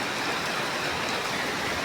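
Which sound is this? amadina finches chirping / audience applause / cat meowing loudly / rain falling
rain falling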